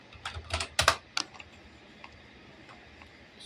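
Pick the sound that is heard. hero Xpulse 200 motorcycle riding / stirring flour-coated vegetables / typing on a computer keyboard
typing on a computer keyboard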